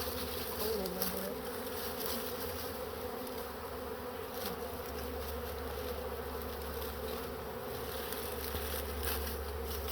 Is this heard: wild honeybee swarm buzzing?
yes